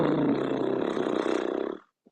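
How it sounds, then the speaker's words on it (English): A yoga horse breath: a long, loud exhale pushed through vibrating lips, a rough buzzing flutter lasting under two seconds before fading, with no talk over it. "you're going to allow the vibration of your breath to come through your lips"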